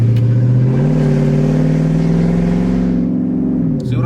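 Lexus SC400 with an aftermarket exhaust revs loudly and close up, a deep steady engine drone climbing in pitch and holding high RPM for several seconds before easing off near the end; no talking.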